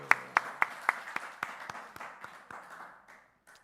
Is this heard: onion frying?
no